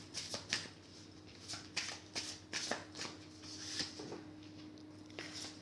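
Oracle cards drawn and shuffled from a deck during a tarot-style reading: a quiet, close series of crisp papery flicks and slides, about a dozen irregular shuffles over steady low background hum, no talking.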